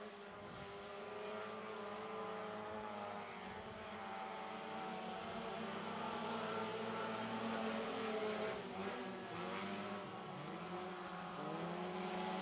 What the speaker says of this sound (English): Scott Cloninger opens up his lead off turn two down the back straightaway on lap number one.